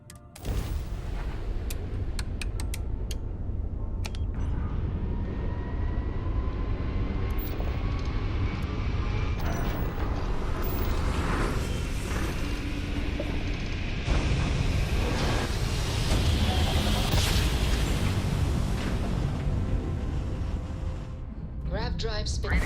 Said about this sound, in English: Grav drive spinning.